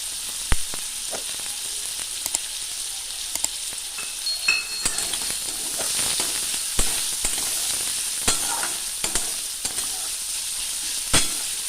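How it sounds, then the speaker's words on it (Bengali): Green chillies, onion and garlic, with black cumin seeds, fry in hot oil in a karahi for a prawn and taro-stem dish. A loud, continuous sizzle runs throughout, with sharp crackles and pops at irregular intervals. It is heard up close, without speech. "আর দিলাম দুটো কাঁচা লঙ্কা, পেঁয়াজ আর রসুন একসাথে রেখে"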